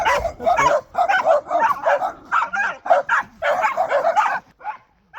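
Several dogs bark and yip in rapid, overlapping bursts close by, loud and continuous for several seconds before a brief quiet gap and a final yelp.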